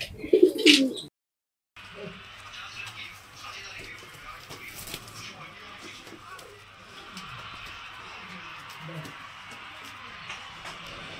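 Black Indian Lokha pigeons coo softly in a cage, a brief burst of sound at the start, then quiet cooing and faint rustling.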